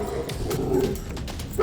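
Agitated dog in a tense scene, its barks and yelps blending into a continuous, loud, cluttered soundtrack with no clear separate bursts.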